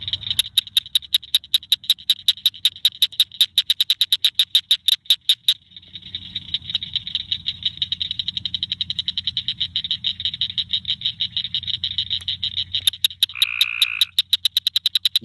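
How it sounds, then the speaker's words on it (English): Cricket frogs calling outdoors in spring, a rapid series of sharp clicking notes like marbles knocked together, repeating steadily and loudly with a continuous insect-like trill underneath. "It's time for the cricket frogs."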